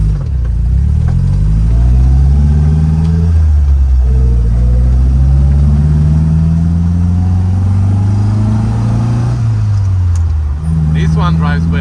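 Triumph TR4A engine running on a fresh set of NGK spark plugs while driving, a loud steady drone whose pitch rises and falls with throttle changes, with a brief dip near the end.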